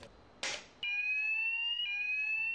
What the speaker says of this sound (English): Gareth, can you raise the alarm? There's a fire